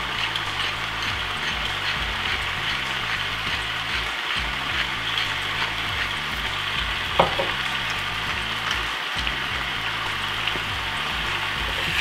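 Diced chicken pieces sauté with onion in a hot pan for a chop suey, a steady close sizzle with occasional stirring scrapes running throughout without pause.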